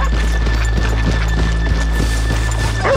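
Horses in Red Dead Redemption 2 walk with a steady, even clip-clop of hooves, loud and close over a low ambient rumble, with a brief whinny at the very end.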